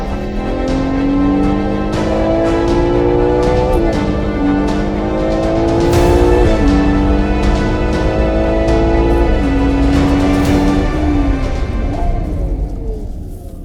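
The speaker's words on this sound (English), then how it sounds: "This is a 12 engine on the front axle." A Ferrari Purosangue SUV with a front-mounted V12 engine drives steadily, its loud, continuous engine note rising and falling through repeated gear shifts, with no talking.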